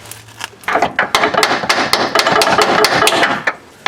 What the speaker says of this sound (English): Gotta tap it with a hammer up there.